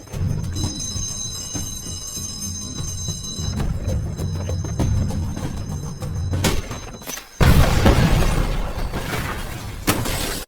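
An improvised bomb explodes outside a store in a film scene: a sudden loud blast cuts through a quieter stretch of rumbling, then a dense, roaring burst of noise carries on to the end.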